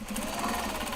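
A sewing machine backstitches through denim in a quick, steady run of rapid needle strokes, close and fairly quiet, with no talk.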